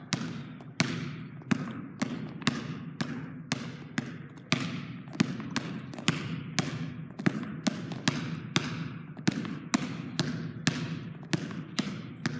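A basketball is dribbled hard on a gym floor in a steady run of sharp, loud bounces about two per second, crossing through the legs and behind the back in a dribbling workout.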